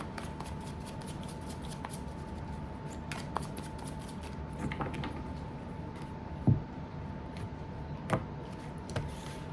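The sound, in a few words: shuffling tarot cards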